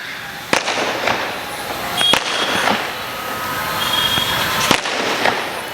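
Firecrackers burst at a distance during a spiritual discourse: a few sharp, separate pops over a constant background hum.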